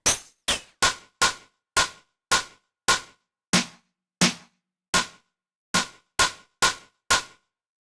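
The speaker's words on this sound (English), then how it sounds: "And let's go ahead and add ring modulator." Percussion hits processed with a ring modulator in Reason, a series of about fourteen sharp metallic clanging strikes with quick decays, spaced irregularly with silence between them.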